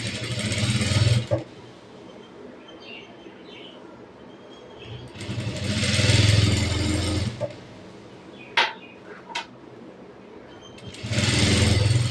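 A sewing machine stitching the folded hem of a short kurti's sleeves runs in three separate whirring bursts, close and fairly loud. Quieter stretches between the bursts hold faint rustling and a couple of clicks.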